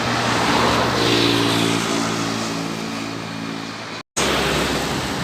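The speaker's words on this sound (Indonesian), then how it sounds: "Yuk, bus pariwisata dari karya Reski Sentosa atau disingkat KRS." A tour bus drives past on a straight stretch of road in Palas, Indonesia. Its engine roar and tyre rush are loud and close, with a droning tone that shifts as it passes, and the sound briefly drops out near the end.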